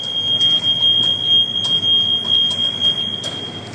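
A steady high-pitched electronic alarm tone sounds continuously, with a few brief sharper beeps or clicks over a low rumbling background.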